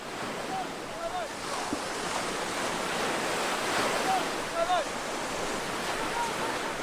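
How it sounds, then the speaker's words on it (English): Waves wash steadily against the shore of the Caspian Sea, a continuous broad surf rush with some wind, loud and close, with no voices. "the Macedonian army reached the shores of the Caspian Sea"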